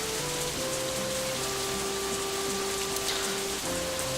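Rain sound effect from the visual novel Katawa Shoujo: a steady patter of rain on surfaces at moderate level, with soft sustained musical tones running beneath it and no speech.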